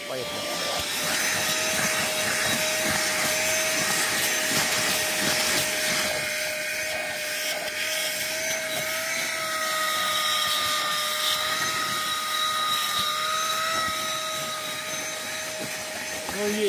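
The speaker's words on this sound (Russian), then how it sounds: "Вот эту грязь отсасывать." A vacuum cleaner sucks dirty water out of the interior of a Renault Laguna with an automatic gearbox, giving a loud, steady whine that runs close up for the whole stretch, with someone talking briefly near the start.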